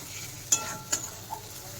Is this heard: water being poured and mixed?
no